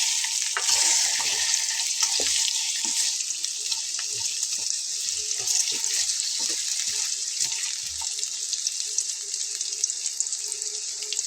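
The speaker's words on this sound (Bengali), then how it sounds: "তারপরে আমি প্রথমে আলুগুলোকে দিয়ে নেব। আলুটাকে চুলার আঁচটাকে একটু কমিয়ে দিয়ে নেড়ে ছেড়ে নিতে হবে।" Potatoes fry and are stirred in a pan over lowered heat, a loud, steady close sizzle running throughout with scattered scraping and clinking from the spoon.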